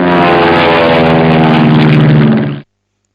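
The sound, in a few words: aeroplane sound effect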